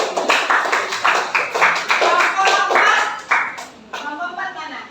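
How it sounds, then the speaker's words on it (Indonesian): Classroom participants clap for group one in a training session, a burst of scattered, distinct handclaps in uneven rhythm, close and fairly loud, with voices mixed in toward the end. "Tepuk tangan dong kelompok 1"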